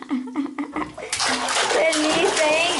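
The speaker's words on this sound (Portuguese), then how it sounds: "Milena toma banho e todos tomam junto." A small child's bath water splashes and sloshes in a bathtub, nearby and fairly loud, after a few moments of a child's and an adult's voices talking.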